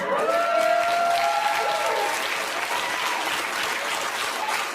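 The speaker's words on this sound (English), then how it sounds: "Why are you all applauding?" A studio audience applauding, a loud continuous roar of clapping hands held steady throughout, with a brief whoop or cheer rising near the start.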